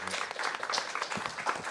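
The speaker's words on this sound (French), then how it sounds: "je propose qu'on applaudisse aussi Samuel pour cette modération et cette soirée" An audience at a science café applauds briefly, a soft, fairly distant patter of clapping hands lasting under two seconds.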